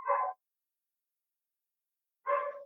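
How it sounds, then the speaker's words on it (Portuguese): Two short street dog barks a couple of seconds apart, with silence between, sounding moderately close. "os cachorros aqui da rua estão latindo feito doido"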